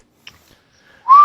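A single clear whistled tone, steady and slightly rising, near and loud, after a brief faint click and quiet.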